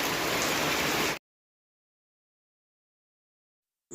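Steady rain pours down in a sudden spell of bad weather at the start of summer, a dense broadband hiss for about a second before it cuts to silence, then returns briefly at the end.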